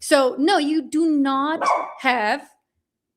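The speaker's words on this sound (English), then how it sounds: "That's my dog." A pet dog barks in a house, several sharp, loud barks close by with short gaps between them, heard together with a person talking.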